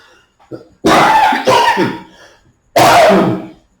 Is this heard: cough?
yes